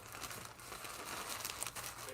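A plastic bag from an opened mail package crinkles continuously while being handled, faint and close, with no talking over it.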